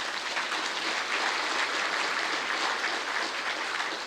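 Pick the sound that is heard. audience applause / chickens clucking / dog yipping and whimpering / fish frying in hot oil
audience applause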